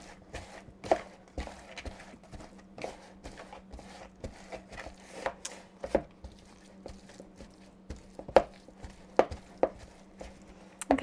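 Canned potatoes being mashed with a potato masher in a bowl: a run of close, irregular soft thuds and squelchy presses, with a low steady hum underneath and no talking.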